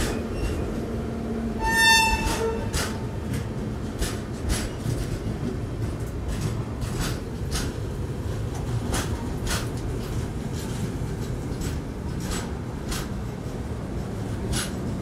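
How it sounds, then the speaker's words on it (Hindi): The Jallianwala Bagh Express, running Sealdah to Amritsar, pulls into Govindpuri station with a steady low rumble of rolling wagons and wheels, punctuated by rhythmic clacks over rail joints and a short high-pitched tone early on. "गोविंदपुरी में अराइवल हो रहा है जलियांवाला बाग एक्सप्रेस का, सियालदह अमृतसर"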